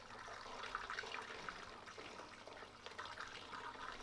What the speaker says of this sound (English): I'm just going to pour some fresh fuel in up to approximately that line first.